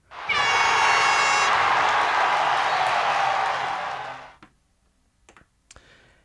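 A crowd cheer sample triggered from a Roland Fantom workstation, a dense roaring swell of voices lasting about four seconds before cutting off, followed by a few faint clicks.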